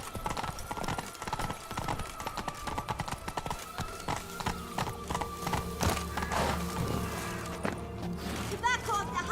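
Roach, a horse in The Witcher 3: Blood and Wine, galloping: a rapid, steady clip-clop of hooves with a brief whinny, under game music and a voice speaking.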